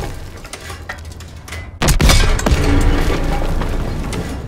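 A building blown apart in the Call of Duty: WWII video game: a sudden loud boom followed by crashing, rumbling debris and scattered blasts that stay loud to the end.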